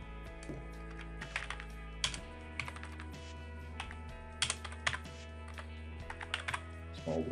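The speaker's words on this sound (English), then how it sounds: "And now I'm just going to type a few things in." Fingers tap on a computer keyboard in quick, uneven bursts of keystrokes with brief pauses between words, close and crisp over a low steady background hum.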